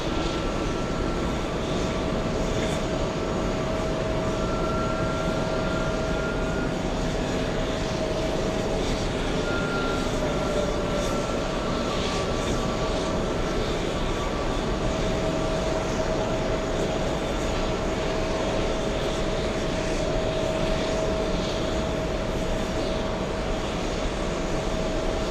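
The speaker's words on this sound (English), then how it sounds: "It's a Delta flight flying in from Los Angeles." Delta flight 958 from Los Angeles landing at JFK airport, a steady distant jet engine drone with a faint tonal whine, continuous and unbroken, no voices.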